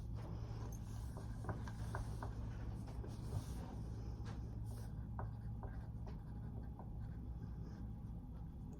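A pen scratches out a definition by hand in quiet, close strokes, with short scratchy marks over a low steady background hum, and no one talks.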